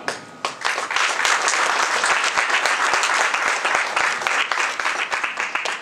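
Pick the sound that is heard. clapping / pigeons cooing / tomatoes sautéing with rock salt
clapping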